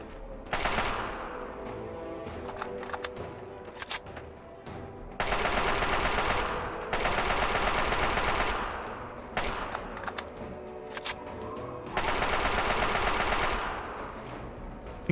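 A Chinese assault rifle firing in Fallout 3: loud, close bursts of rapid automatic gunfire, several sustained volleys of one to two seconds each, broken by short pauses and metallic clinks.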